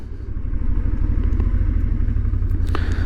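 A 2024 Honda XL750 Transalp motorcycle ridden on the road, its engine giving a steady, loud, close rumble throughout with a brief clatter near the end; no talking.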